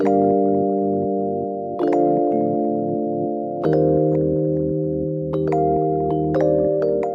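Sustained synth chords from an Arturia reverse pad swell softly and shift every couple of seconds, with a smooth, airy pad tone and slight brightening attacks at each change.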